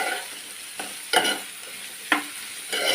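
Onions frying in a pan with a little salt, stirred with a few distinct scraping strokes over a soft steady sizzle; no voices.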